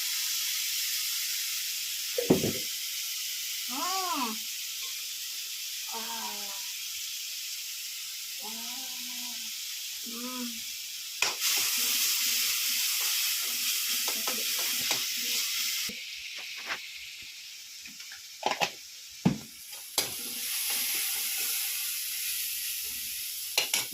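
Onion, garlic and ginger paste sizzles with cumin in hot oil, a steady, close, loud hiss that carries on throughout while a person talks over it at intervals.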